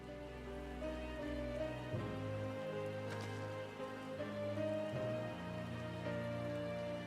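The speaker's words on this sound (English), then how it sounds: "It's really raining right now." Steady rain patters and hisses with soft, sustained musical tones underneath and no voices; rain in the video game Final Fantasy XIV: Dawntrail.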